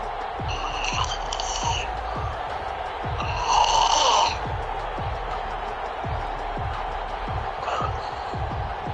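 A person snores in slow, repeated rasping breaths under a steady background of noise and faint crowd sound, with a louder, rougher snore midway.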